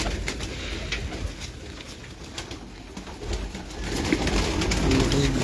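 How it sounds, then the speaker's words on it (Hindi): Pigeons coo steadily on a rooftop breeding setup in Lahore, a soft continuous murmur of several birds close by, with outdoor background noise and faint movement throughout. "ब्रीडर कबूतर आपको दिखा रहे हैं जी।"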